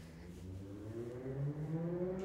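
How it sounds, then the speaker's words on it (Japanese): Loud motorbike passing outside in a late-night residential street, its engine drone rising in pitch and growing louder as it approaches, heard faintly through the walls indoors. "うるさいのこのバイク、ほんまにいつもうるさい"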